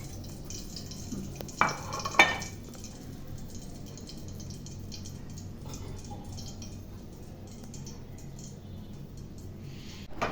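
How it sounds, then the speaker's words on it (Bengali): Pieces of ash gourd (chal kumra) fry in oil in a kadai, giving a soft, steady sizzle throughout, with a few brief clinks of stirring near the start. "এভাবে সবগুলো কুমড়ো ভেজে নিতে হবে।"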